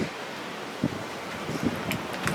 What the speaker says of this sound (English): sorry about the wind guys, it's a windy day today.